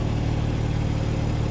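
Toyota Supra inline-six turbo engine idling, a steady low rumble with a constant mid-frequency hum held at an even level throughout, with no revving and no talking.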